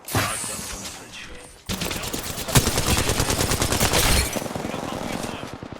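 Rapid automatic gunfire in the battle royale game Apex Legends, loud and dense bursts with a brief lull before heavier sustained shooting, under occasional voice chatter.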